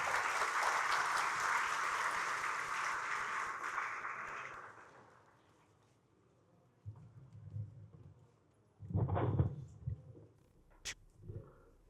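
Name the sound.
audience applause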